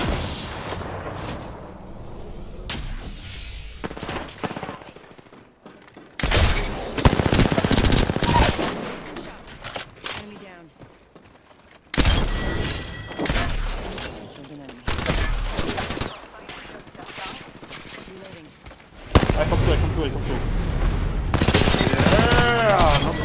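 Rapid bursts of automatic gunfire from a new overpowered gun in Apex Legends come in several loud volleys separated by brief pauses, with a person talking in between.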